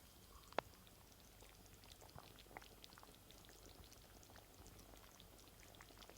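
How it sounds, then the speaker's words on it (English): Pot of traditional Romany Gypsy stew simmering, faint bubbling and soft popping pops scattered over a low steady hiss, with one sharper pop near the start, close and quiet. "But just listen to this pot singing."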